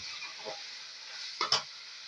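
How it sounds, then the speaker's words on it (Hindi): Ginger garlic paste frying in a pot for chicken polao, a steady bright hiss with soft scraping stirs and a quick pair of louder clatters near the end. "अदरक लहसुन का पेस्ट वो इसमें हम भून चुके हैं"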